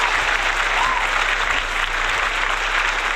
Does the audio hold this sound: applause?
yes